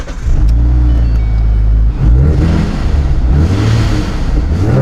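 A V6 Mustang running E85 with increased boost revs hard up close, its engine note loud and steady, then rising again after a short dip, with no talk over it.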